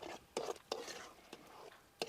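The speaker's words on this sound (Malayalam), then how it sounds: "ഇനി നമുക്കിതൊന്ന് ഇളക്കാം." Masala curry finished with coriander leaves being stirred in a pot: a few distinct scraping, clinking strokes at irregular intervals over a quiet background, close and moderately loud.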